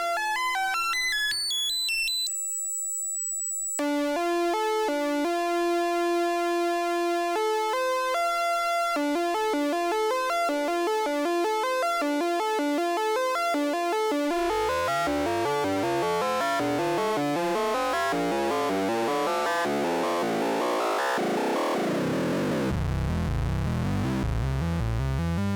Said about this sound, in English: What a nice lead sound.